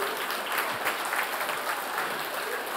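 Sustained clapping from an audience at the Uashteshiu 2024 gathering, dense and even, holding steady throughout at moderate loudness.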